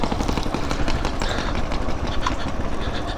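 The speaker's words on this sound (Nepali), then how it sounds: "त्यो खास मेसिन गराएको रहेछ बुर्र गराएको रहेछ" A village grain mill machine running steadily nearby, a continuous buzzing engine drone with a rough, pulsing mechanical rhythm and no talk.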